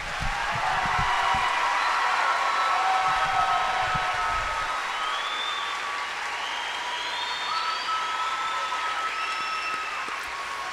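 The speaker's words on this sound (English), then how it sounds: "How about a round of applause?" Sustained applause from a large crowd of families and guests honoring a graduating high school class at a commencement ceremony, steady and full for the whole stretch with no talking over it.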